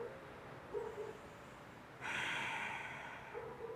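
A person lying with legs up a wall breathes out during a guided stretching exercise: a soft snort-like breath, then a longer, airy exhale, quiet and close with no talking.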